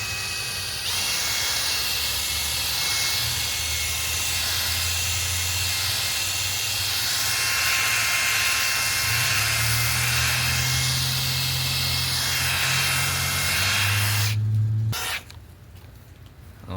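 An electric polisher buffs a Nissan headlight with a continuous close whirring drone that shifts in pitch as pressure changes, then cuts off abruptly near the end.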